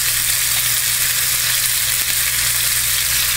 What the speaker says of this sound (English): once you got a nice little sear, you're going to turn it around